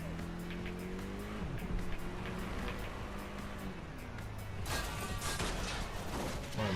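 Cars in Watch Dogs Legion drive fast with engines droning, then tires squeal and skid loudly in long sliding streaks, with rough crashing bursts near the end.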